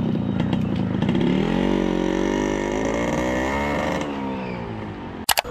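Motorcycle engine running steadily while riding toward the Lalbaugh Cha Raja immersion procession in the early morning, a continuous loud drone with slight pitch swells, ending in a few sharp clunks.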